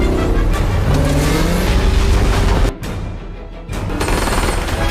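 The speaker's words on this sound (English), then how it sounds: "A high-speed chase erupts." A loud car roars past at speed with engine noise and sharp bursts that sound like gunfire, a brief dip, then the racing resumes.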